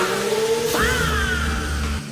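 A BMW 335i engine runs close by, a steady low hum with a brief rising whine partway through before settling, no voices.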